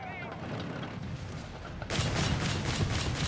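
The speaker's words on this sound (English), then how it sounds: "Left here with heavy automatic fire there. The auto cannons letting loose." Heavy automatic fire and autocannons in the Company of Heroes 3 strategy game, a muffled rumbling battle that erupts into loud, rapid rattling bursts partway through, with a voice talking over it.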